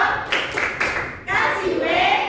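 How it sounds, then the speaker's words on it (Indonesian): Primary school children in a classroom clap a short rhythmic cheer together, a few loud grouped bursts of claps close by, with voices chanting along over the clapping. "kita beri tepuk wow untuk kelompok penarik"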